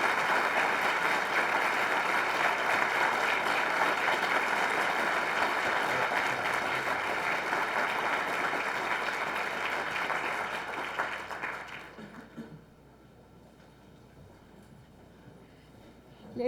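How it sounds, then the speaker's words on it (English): An audience at an academic talk on Iraq gives a diplomat a long, warm round of applause, a steady dense roar of clapping that tapers off after about twelve seconds into a quiet room. "give him a big warm hand of applause"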